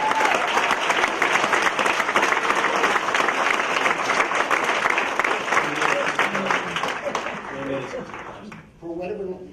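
Audience applause fills a county freeholders' public meeting, steady and dense for most of the stretch before thinning near the end, where a voice begins speaking over it.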